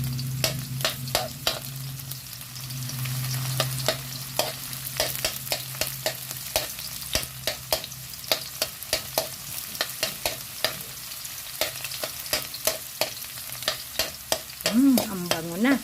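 Garlic sautéing in a pan for a Filipino sweet and sour tilapia dish, a steady sizzle broken by many sharp scraping stirs of a utensil against the pan, close and fairly loud with no talking.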